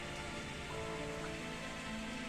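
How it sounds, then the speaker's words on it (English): Steady rain falling in the visual novel game Steins;Gate, a continuous soft hiss of drops with faint tonal sounds running underneath throughout. "I suddenly hear the sound of rain."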